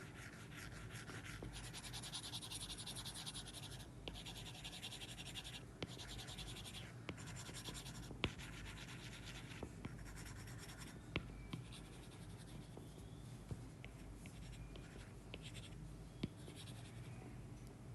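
A pencil scratches and rubs steadily across paper, shading in quick squiggly strokes that imitate brush marks, heard up close and quiet for a long stretch with small taps between strokes and no talking.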